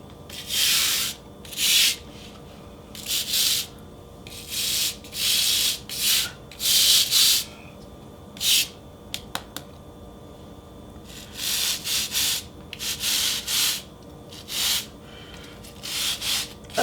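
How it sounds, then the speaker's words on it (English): A brush scrubs cleaner into tile grout lines in repeated short strokes with brief pauses between them, close and fairly loud, with no talking. "You can do a preliminary scrub and just kind of work it in a little bit."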